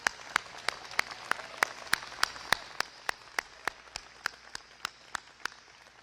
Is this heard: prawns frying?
no